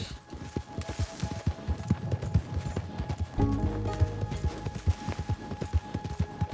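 A horse's hooves clip-clop in a steady trotting rhythm in Red Dead Redemption II, close and clear over a soft game music bed, with a brief muffled thump partway through.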